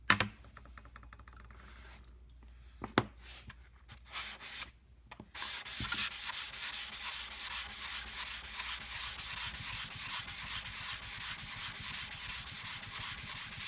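A sharpening stone is rubbed flat on glass, a steady, continuous gritty scrubbing close by after a few scattered taps and scrapes at the start, with no talk.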